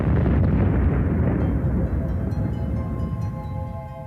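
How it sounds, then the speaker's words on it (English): A huge supernova explosion sound effect: a loud, deep rumbling blast that rolls on for several seconds and slowly fades, with faint tonal ringing rising near the end. "they end their life in a huge explosion"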